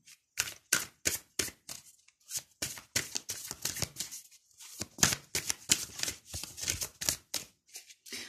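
Tarot cards are shuffled and laid down in a reading, a quick run of sharp, close papery snaps and flicks in irregular bursts with short pauses, no voice over them.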